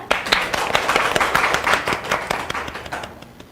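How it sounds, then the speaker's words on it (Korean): Audience clapping at a zero-waste forum, dense and steady for a few seconds before thinning out and fading at the end. "계신 곳에서 박수로 맞아주시기 바랍니다."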